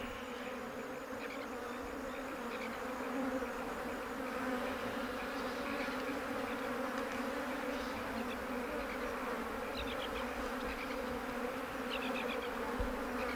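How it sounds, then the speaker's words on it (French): Swarm of flies buzzing around an animal carcass in the African savanna, a dense continuous droning hum with individual insects passing close, steady and loud with no pauses and no voices. "Les mouches cherchent à s'immiscer dans les plus petites anfractuosités de la carcasse"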